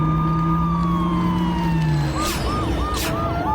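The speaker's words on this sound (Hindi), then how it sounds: "तभी पुलिस की गाड़ी आई।" A police car siren wails through steady traffic noise, first a long falling tone, then a fast rising-and-falling yelp pattern, close and loud.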